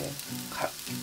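Dried shredded pollock sizzles and crackles steadily as it is stir-fried in a pan with sugar, with soft stirring scrapes and no talk.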